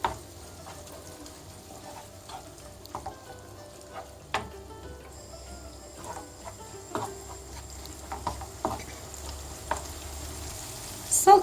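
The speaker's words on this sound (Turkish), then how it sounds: "şöyle yağımızda salçamızı da biraz kavuracağız" Tomato and pepper paste frying in oil in a pan, a low, steady sizzle with scattered crackles and stirring scrapes throughout, fairly quiet and close, no voices.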